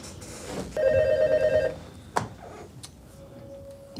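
A telephone bell rings once in a rapid trilling burst lasting about a second, followed by a sharp click as the receiver is picked up, then a faint steady tone.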